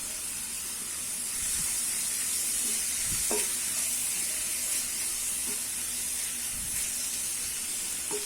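Grated carrot sizzles and hisses steadily in hot masala for Salem-style street bun masala, with a few soft stirring knocks from a spoon or ladle against the pan.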